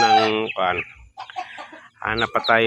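Hens cluck in short, stacked harmonic bursts at close range, with a brief quieter gap before the clucking resumes.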